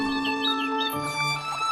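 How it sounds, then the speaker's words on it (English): Clear, close birdsong from a lush garden setting: several bright whistled tones and short chirping phrases overlap continuously for the brief moment, with no voices. "You start to hear birds and see flowers."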